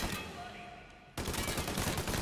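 Rapid gunfire from a firefight in the video game Mafia Definitive Edition: quieter shots fade off, then an abrupt loud burst of dense, continuous shooting takes over.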